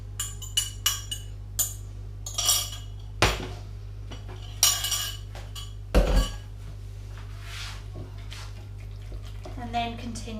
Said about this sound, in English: And then continue to mix.